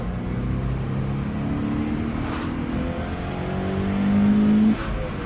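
A Scion FR-S car engine runs steadily with a low droning hum, its pitch rising as it revs harder before dropping back near the end.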